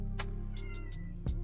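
Domestic cat meowing indoors, a few short, close meows in quick succession over a steady low hum.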